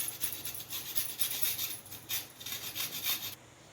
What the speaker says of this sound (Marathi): आता आपण एक गाजर खिचून घ्यायचे